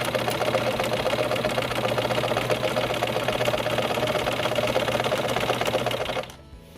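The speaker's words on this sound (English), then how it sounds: "So you're just going to go ahead and sew your zigzag" A sewing machine running a zigzag stitch to finish a seam, a steady fast mechanical whir and rattle held for about six seconds before stopping abruptly, close and alone.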